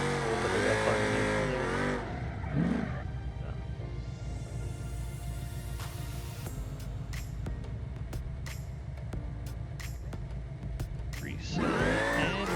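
A car in the BeamNG driving game, set up for drifting, runs with a steady engine drone throughout, rising in revs at the start and end and dotted with sharp clicks and knocks, while a voice talks over parts of it.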